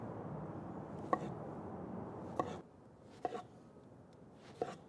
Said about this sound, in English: we're just gonna slice these pretty thin